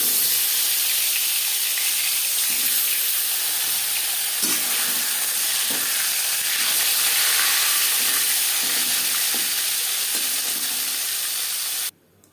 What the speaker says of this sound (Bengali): মাছ ভেজে নেওয়া কড়াইতে তেল দিয়েছি, ফোড়নে দিয়ে দিলাম 5 ফোড়ন।